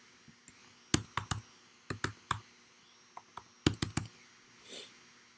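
Bank card details keyed in on a new-generation payment terminal: a series of sharp, close clicks in irregular bursts, clustered in quick groups with short pauses between them, with no talking.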